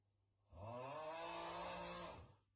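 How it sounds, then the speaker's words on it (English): A single long, rasping snore rises and holds for nearly two seconds, fairly close and loud, with a rough buzzing drone and no talking over it. "Somebody snoring?"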